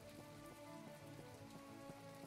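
Steady rain falling in the video game My Time at Portia, a soft continuous patter on surfaces, faint and even, with quiet game music tones underneath and no speech.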